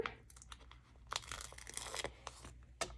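Backing is peeled off a cling stamp sticker: close, crisp tearing and crinkling with a few sharp crackles, quiet and alone.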